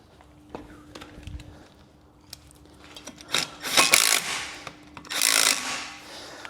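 Retaining screws being tightened on a Renault Trafic brake disc, heard as scattered clicks and taps followed by two short bursts of metallic turning and rasping, close and fairly loud.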